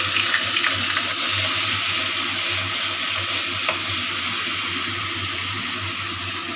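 Two grated onions fry in oil in a pan for an egg curry, giving a loud, steady wet sizzle with faint stirring and a low hum beneath.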